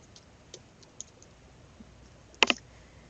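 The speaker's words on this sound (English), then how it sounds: "You can just type it right in here." Typing on a computer keyboard: a few sparse, faint key clicks followed by a sharper double click near the end, close and quiet with no talking.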